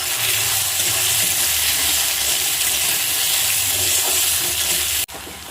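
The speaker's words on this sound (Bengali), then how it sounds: "তেলটা গরম হয়ে গেছে, ওর মধ্যে এবার আমি আলুগুলোকে দিয়ে দেব। আলুগুলোকে আমি হালকাভাবে ভেজে নেব।" Potatoes fry lightly in hot oil in a wok, giving a steady, close sizzle with a soft crackle that runs on its own and then cuts off abruptly near the end.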